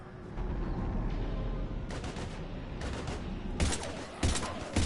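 Gunfire from Mass Effect 3 rattles in dense bursts, with heavy rapid volleys and booming reports stacking loud and close through the whole stretch.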